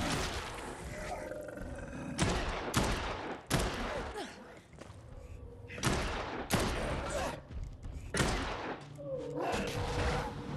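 Gunfire in the PS5 zombie game Dead Island 2: loud bursts of shots come in clusters with short gaps, mixed with growls and roars, close and harsh across the whole stretch.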